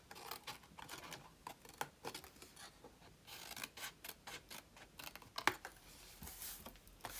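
Scissors snipping and notching the corners of paper for a small 4 x 4 inch square box, quiet close crisp cuts in short irregular bursts with brief pauses between.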